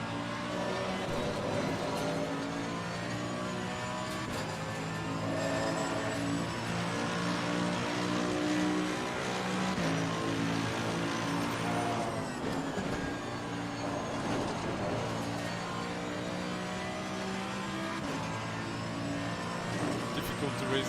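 A Mercedes AMG race car in black AMG livery drones continuously at Silverstone in the racing game Assetto Corsa Competizione, its engine tone holding steady, then shifting pitch midway, with a voice talking over it.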